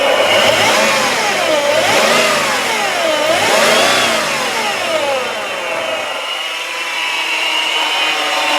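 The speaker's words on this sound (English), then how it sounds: "I should be able to rev it up for you" A 2003 Chevrolet Impala LS engine revs loudly up and down several times in a rising and falling pattern, close up, before easing back toward a steadier idle.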